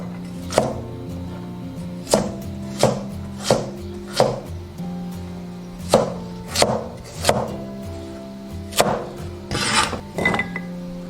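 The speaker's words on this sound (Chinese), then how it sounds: "洗净过后切成条" A knife chops washed bamboo shoots into strips on a board, sharp separate strokes in an uneven rhythm, about ten in all, close and clear over a low steady hum.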